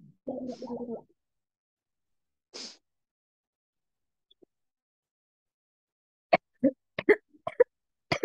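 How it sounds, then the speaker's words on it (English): Several short, sharp coughs in a quick irregular cluster near the end, after a brief vocal sound at the start and a lone breathy cough; nearby, fairly loud. "Do you have cough?"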